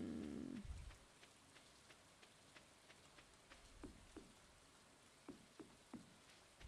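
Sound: rain in the video game Stardew Valley

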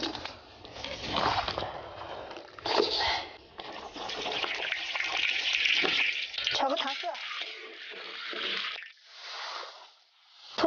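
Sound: washing pig head under running water

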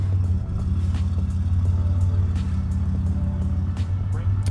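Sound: 1986 Buick Grand National pulling away

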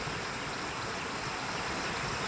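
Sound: floodwater flowing over Karnala bridge in Sangli after heavy rain

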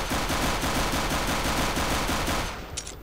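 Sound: gunfire in the video game CS:GO

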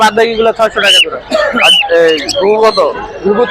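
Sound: cockatiels and other caged birds at Tongi bird market

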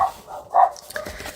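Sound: dog barking

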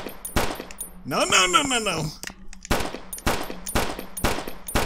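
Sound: gunfire in the 2D survival horror video game Project Abel

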